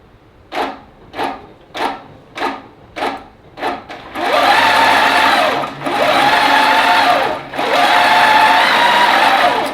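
A ProStitcher computerized quilting machine stitches a quilt: first a string of short, evenly spaced mechanical bursts, then long continuous whirring runs with brief pauses between them, loud and close.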